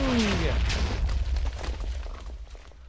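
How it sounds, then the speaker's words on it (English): A Minecraft creeper explosion from a video game: a loud, deep boom with a falling tone at the start, decaying into rumbling debris and crackle over a few seconds. "His last sound was a hiss that he sung, followed by an enormous bang!"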